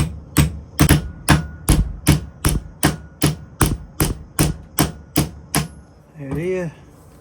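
Ball peen hammer striking a metal pin held in a vise, cutting it out of an old knife: about fourteen sharp, loud metallic blows in a steady rhythm, followed by a brief quiet voice at the end.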